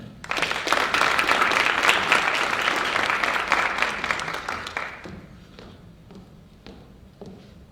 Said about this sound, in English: A round of applause to our National Certificate students.